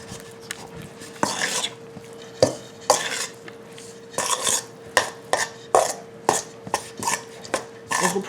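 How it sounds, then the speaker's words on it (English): A utensil stirs a cream cheese mixture in a bowl, giving a series of scraping and knocking strokes in an uneven rhythm, close by and fairly quiet, with a faint steady hum underneath. "And we're going to start mixing this up."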